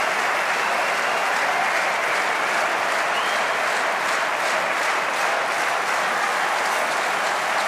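A crowd applauds steadily at a 2011 German Open men's singles semifinal table tennis match between Timo Boll and Ma Lin, a dense, even wash of clapping sustained for several seconds without speech.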